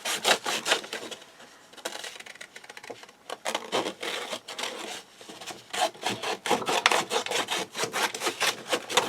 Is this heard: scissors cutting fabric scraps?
yes